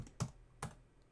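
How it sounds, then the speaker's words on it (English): Two sharp separate keystrokes on a computer keyboard, close and crisp, with a short gap between them against quiet room noise. "And I'm going to type"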